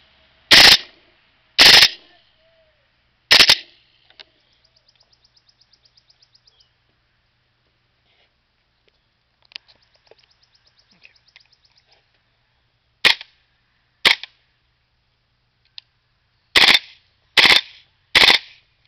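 A King Arms airsoft gun fires in several separate loud bursts of rapid shots, with quieter stretches between them that hold faint rhythmic ticking and soft chirps.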